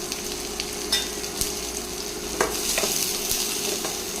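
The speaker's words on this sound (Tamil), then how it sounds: "இது எல்லாமே நல்லா வதங்கட்டும்." Onions, garlic and ginger sauté in oil, producing a soft, continuous sizzle broken by a few sharp stirring clicks and scrapes, heard up close with no voices.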